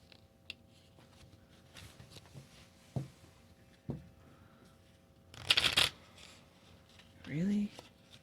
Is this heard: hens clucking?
no